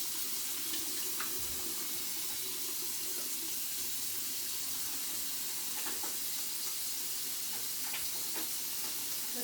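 Tap water runs steadily into a sink during hand washing in a microbiology lab, a soft continuous splash with occasional faint clicks and rubbing sounds, no talking.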